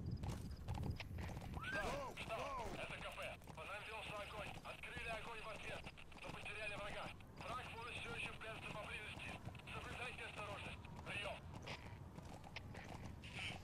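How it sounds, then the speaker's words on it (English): Horse hooves clip-clop steadily with a whinny in Metal Gear Solid V: The Phantom Pain, set against a constant ambient game backdrop with someone talking over it. "just a horse."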